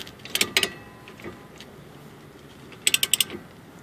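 A hand ratchet snugging bolts during a rear brake pad replacement on a Buick LaCrosse, with two quick bursts of sharp, close clicking separated by a quiet gap.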